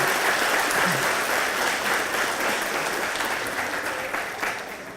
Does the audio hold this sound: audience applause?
yes